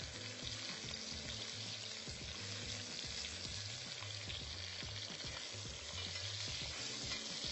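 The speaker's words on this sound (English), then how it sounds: "searing sound means that the pan is nice and hot, and it's going to ensure that we get a nice crust on those ribs" Ribs sear in a hot Le Creuset pan with a constant, close sizzle and spattering fat, steady and uninterrupted with no voices.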